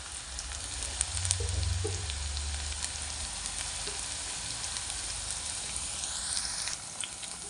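Chopped onion and garlic frying in a pan for a spinach dish, a steady soft sizzle throughout with faint scraping of a spoon partway through.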